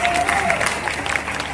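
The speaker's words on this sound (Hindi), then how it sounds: "एक बार पीछे तक की तालियां दे दीजिए।" Audience applause at a Hindi poetry recital (kavi sammelan) in Guna, a broad crowd clapping steadily at close range, with a faint voice or whistle running through the opening.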